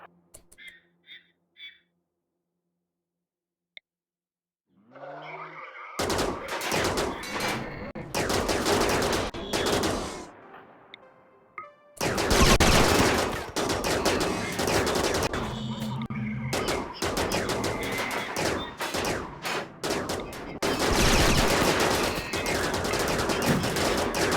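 Snipers open fire in RimWorld with the RiftWorld mod, giving long loud bursts of rapid gunfire that follow a quiet opening with a few faint tones and then run in heavy volleys with brief gaps.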